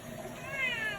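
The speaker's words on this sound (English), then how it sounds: "He is a good kitty." A house cat meows once or twice at close range, a short rising call in a quiet indoor room with no talking.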